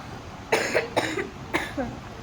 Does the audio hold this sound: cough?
yes